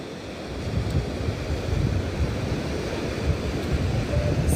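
Sea waves wash steadily onto a beach, a broad continuous roar mixed with wind buffeting the microphone, fairly loud and close with no voices.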